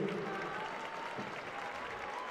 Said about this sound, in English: Let's give it a round of applause for our two finalists and all the cadets here tonight